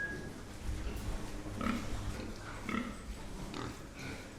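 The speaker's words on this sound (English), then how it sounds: "These pigs are looking like normal pigs, but actually they are genetically modified." Genetically modified pigs in a research lab in the Bavarian countryside, grunting and oinking in short repeated bursts at moderate distance over a steady indoor background hum.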